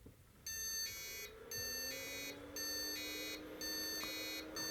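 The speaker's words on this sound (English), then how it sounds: "Okay, we're getting some beep codes." An IBM 5162 AT motherboard sounds its POST beep codes: a faint series of four steady electronic beeps in a rhythmic on-off pattern, accompanied by a low rising hum.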